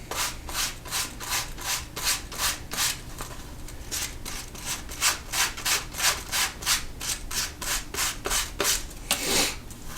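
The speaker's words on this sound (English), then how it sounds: "then with damp sanding, all one direction" The edge of a leather snap wallet is damp-sanded in one direction, making a steady series of about two dozen close, rhythmic rasping strokes with no talking.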